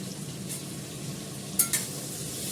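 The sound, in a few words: onions frying in oil with salt and turmeric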